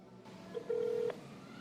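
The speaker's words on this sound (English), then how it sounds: "let me make a call to the phone number." A single short telephone keypad tone sounds as a call is placed, a clear steady beep of about half a second over a faint hiss.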